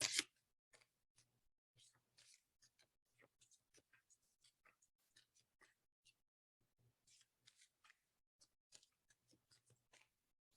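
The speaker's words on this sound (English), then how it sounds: "let's give the deck a little" A tarot deck is shuffled quietly, its cards giving off soft, quick riffling taps in irregular bursts with short pauses between them, very faint and close, with no talking.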